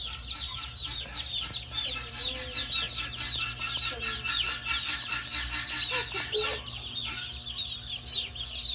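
A flock of farm chickens clucks continuously and busily nearby, with overlapping chatter and soft squawks over a low background rumble.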